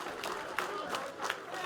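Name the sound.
audience applause at a political meeting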